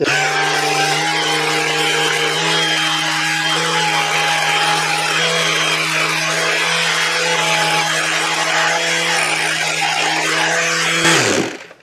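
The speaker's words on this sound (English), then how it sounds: "I might try using the little sander here" Small handheld power sander stripping old finish off a metal faucet, a loud continuous whirring buzz with steady pitch running close for about eleven seconds before winding down abruptly.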